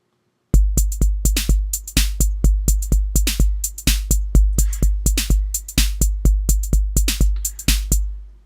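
Electronic drum hits from a Roland TR-606 style drum kit loaded into an Ableton Live drum rack, playing a steady pattern of punchy kicks and crisp hats and snares, loud and clear with no talking.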